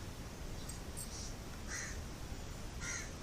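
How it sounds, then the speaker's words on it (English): A crow caws outdoors, several distinct calls spaced across a few seconds, faint and somewhat distant over a soft background hiss, with no talk. "A crow is crowing."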